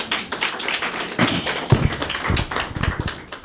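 Clapping from an audience at a religious talk: a brief, uneven patter of hand claps with a few louder thuds, close and fairly short.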